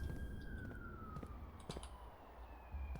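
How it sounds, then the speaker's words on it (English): Emergency sirens wail in the distance, a thin wavering tone sliding slowly downward, faint beneath outdoor ambience with no talking. "The sirens again."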